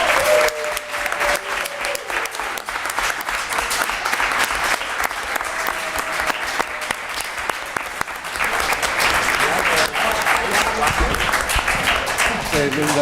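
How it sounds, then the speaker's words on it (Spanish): Warm, continuous applause from an academic audience after an honorary doctorate is conferred at a university seminar, many hands clapping steadily for the whole span with faint murmurs mixed in. "al profesor Antonio Bailos Grau, para el que pido un aplauso."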